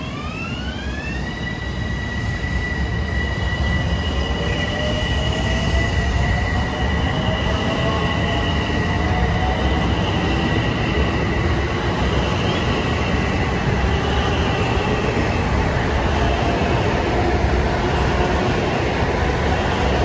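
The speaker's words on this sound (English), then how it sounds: "This M7 starting up from here on 1568 for Huntington at a Penn Station" A Long Island Rail Road M7 electric commuter train pulls away from Merillon Avenue station, its rising motor whine climbing in pitch over a steady, loud rumble of wheels on rail, continuous for the whole stretch with no voices.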